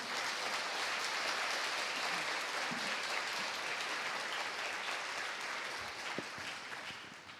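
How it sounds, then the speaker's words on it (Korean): Audience applause at a Korean-language educators' conference, right after a presentation ends; dense, steady clapping across the whole span, slowly thinning toward the close, with no talk over it. "다시 한번 박수 부탁드립니다"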